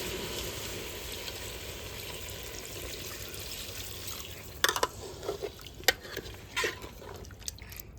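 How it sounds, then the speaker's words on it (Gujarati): Water poured into a cooking pot of vegetable curry: a steady, moderate splashing wash, then a few sharp splashes and drips near the end. "અને હવે ફાઇનલી ફેમિલી પાણી નાખી દેવાનું છે ભાઈ."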